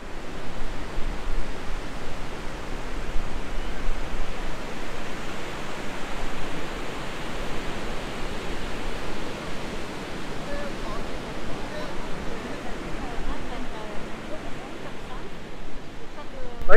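Surf washing onto the beach at Seminyak in Bali makes a continuous, even rush of broadband noise with no distinct breaks, steady and moderately loud from start to finish.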